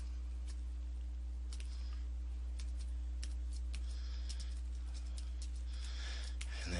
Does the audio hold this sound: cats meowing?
no